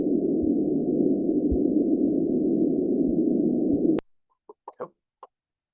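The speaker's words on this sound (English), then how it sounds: "freshwater drum chorusing really dominates the soundscape every day during the same spawning season" Many freshwater drum fish chorus underwater in the Hudson River during spawning season, a dense continuous low rumbling drone with occasional thumps for about four seconds before cutting off abruptly, followed by a few short unrelated chirps.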